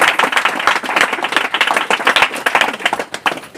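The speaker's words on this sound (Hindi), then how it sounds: "ताली बजाएं पिता के लिए" A church congregation claps together for the Father, a dense, steady patter of many hands filling the room for the full few seconds, with no voices over it.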